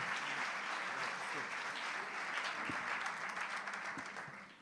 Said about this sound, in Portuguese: Vamos receber o pastor Romildo com uma salva de palmas, que vai trazer pregando para a gente a pala